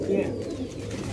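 Pigeons cooing in a loft of colourful fancy pigeons, soft low repeated coos close by over a quiet background murmur.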